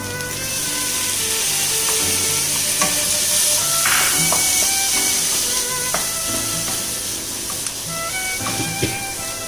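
Vegetables for chicken kheema fried rice are stir-fried in a pan, with loud, continuous close sizzling broken by repeated scraping and tapping from the stirring utensil.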